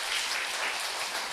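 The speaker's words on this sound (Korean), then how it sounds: "다시 한번 박수 주시기 바랍니다." A church congregation claps steadily together during a Sunday worship service, a dense, even burst of applause that fills the hall.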